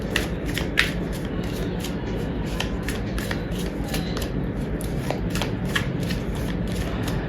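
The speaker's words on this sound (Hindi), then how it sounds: "जब तक मैं कार्ड शफल कर रही हूँ" Tarot cards are shuffled steadily and close by, making a continuous papery riffle with light rhythmic flicks and snaps that runs for several seconds.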